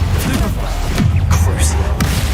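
Repeated Confringo fire-spell blasts in the wizarding game Hogwarts Legacy, a few sharp booming bursts punching through a dense, continuous layer of game noise and combat effects.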